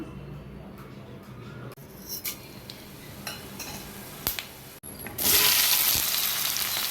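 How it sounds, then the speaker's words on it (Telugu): Chana dal and coriander seeds dropped into hot oil in a pan, starting with quiet clinks and scrapes and then bursting into a loud, steady sizzle for the last couple of seconds. "ఇప్పుడు స్టవ్ మీద బాండీ పెట్టుకొని నూనె వేసుకుంటాను ఇప్పుడు దీనిలో కండి ధనియాలు వేసుకుందాం"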